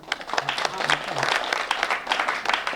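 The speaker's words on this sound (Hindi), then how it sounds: "एक बार ताली आप बजा दें" Audience clapping breaks out at a Hindi comic poetry recital, a dense, lively patter of many hands with voices mixed in beneath it.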